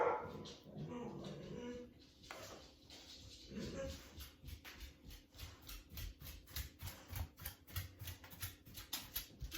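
A dog barks repeatedly in short, rhythmic bursts, with some rustling and scraping noises mixed in and a voice early on.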